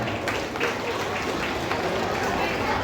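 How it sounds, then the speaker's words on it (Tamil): An audience at a Bharatanatyam dance school's salangai pooja event applauds the parents with steady, dense clapping that holds throughout, mixed with crowd noise. "அந்த பெற்றோர்களுக்கும் ஒரு பலத்த கரகோஷத்தை கொடுக்கணும்"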